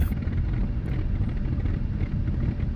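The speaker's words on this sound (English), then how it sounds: "So let's taxi out into the runway, get her lined up" A Focke-Wulf Fw-190 A8/D9 fighter in the DCS flight simulator taxis with its piston engine running at a steady, loud drone and a rumbling low roar, without pauses or voices.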